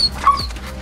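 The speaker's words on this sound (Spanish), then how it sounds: "¡Hola, perrito!" A dog gives a short, high, close whimper, a single brief whine lasting under a second.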